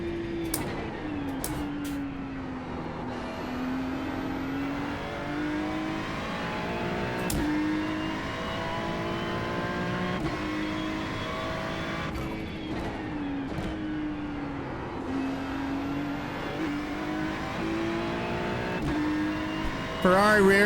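GT3 race car engine lapping Bathurst in a racing game, a steady droning whine with rising and falling pitch through gear changes and corners, continuous and mid-level behind the driver's occasional talk.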